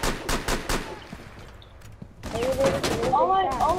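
Rapid gunfire from Rainbow Six Siege, a tactical shooter game: a quick burst of several close, loud shots at the start, then a quieter stretch, followed by dense game noise with chirping tones near the end.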